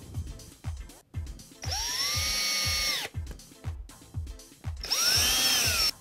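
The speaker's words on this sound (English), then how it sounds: "you can use the cordless drill to put the screws in" Cordless drill driving screws into chipboard during corner wardrobe assembly: repeated close clicks and handling knocks, then two sustained whining bursts of the motor, each running about a second, loud and alone with no talking.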